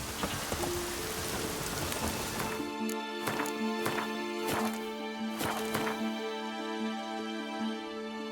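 Steady rain falls in The Witcher 3, a dense continuous hiss of drops on surfaces, with a few sharp clacks and hoof-like knocks and a faint low tone running through, no voices.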